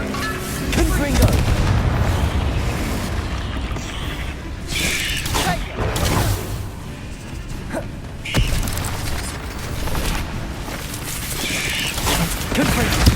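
Confringo fire spell explosions repeat in Hogwarts Legacy, several loud booms and blasts layered over continuous game noise and music, with a voice heard at times.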